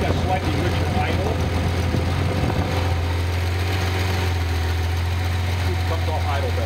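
A Datsun engine idles on a run stand with a steady, slightly rough low hum, a brief burst of irregular clatter early on, then a smooth even drone to the end.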